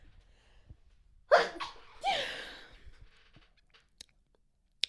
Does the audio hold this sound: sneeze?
yes